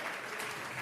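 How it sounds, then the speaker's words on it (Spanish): A church congregation applauds in a brief burst of steady clapping, moderately loud and without talk. "Le vamos a regalar ofrenda de palmas al Dios de la gloria."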